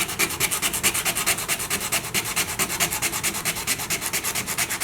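Hand sanding of plastic with 180 grit sandpaper makes fast, even rasping back-and-forth strokes, around eight per second, close, steady and moderately loud, with no talking.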